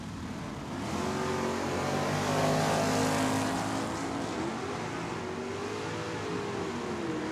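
Dodge and Chevy drag racing cars roar down the strip at Tucson Dragway, a sustained loud engine howl heard from trackside with a rising and falling pitch as they pass.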